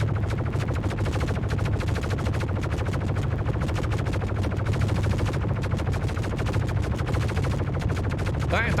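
Rapid, continuous turret gunfire from the Star Citizen video game hammers loudly throughout in a dense, unbroken stream of shots.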